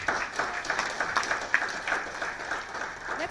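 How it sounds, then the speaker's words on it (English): An audience at a live event hosted by an MC claps together in a dense, steady patter of many hands, lasting the whole stretch at moderate loudness with no voices over it. "I think this guy deserves a better clap."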